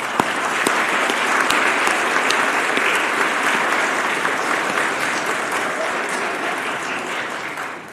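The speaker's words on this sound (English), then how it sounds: "So let's give them a round of applause." An audience at a physical therapy white coat ceremony breaks into sustained applause, a thick, steady crowd of clapping with a few sharp nearby claps, fading gently near the end.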